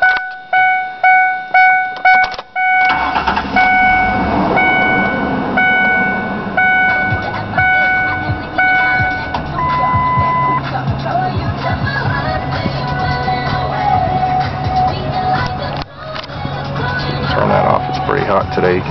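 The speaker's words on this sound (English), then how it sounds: "So I'll leave the door open so you can hear the engine." A 2001 Ford Explorer Sport Trac 4x4 heard through an open door: a repeating chime, then the engine cranks and settles into a steady, loud idle.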